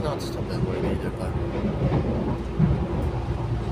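A passenger train on Auckland's Southern Line rumbles along in a low, steady roar, heard from inside the carriage as a voice talks over it.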